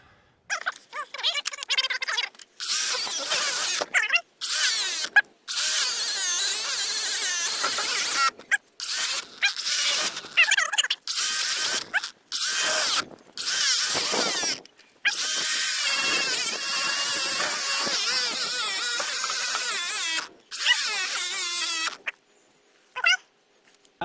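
A Ryobi brushless angle grinder runs pressed against an anvil block, its loud, close high-pitched whine rising and bogging down repeatedly, cut by several brief drops to near silence as it stalls or is released.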